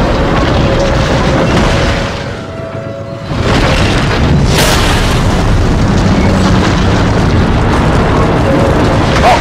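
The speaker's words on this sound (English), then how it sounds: "I just want to see a huge explosion" A loud, sustained explosion in the video game Until Dawn, a dense rumbling roar that dips briefly and then surges again with a crackling burst, continuing to the end.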